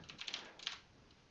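Faint, brief run of keystrokes on a computer keyboard while adding a chart in TradingView, a few soft clicks clustered near the start and then trailing off into quiet room tone.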